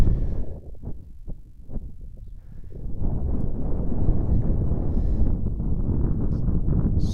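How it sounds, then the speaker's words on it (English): Strong gusts buffet the microphone at a plane spotting site by an airport runway, a loud continuous low roar of wind noise with a few sharp thumps at the start. "Super windy here today."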